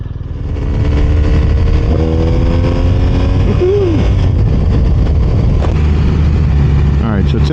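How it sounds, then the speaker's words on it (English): A BMW R 1250 RS motorcycle engine starts and settles into a loud, steady running drone that stays close throughout, with a brief rising rev at the start and some faint background noise near the end. "So let me get the bike started and get underway here."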